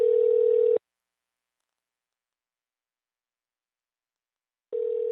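A telephone call gives a steady electronic calling tone. A short burst plays, then about four seconds of silence, then the tone starts again, clear and isolated.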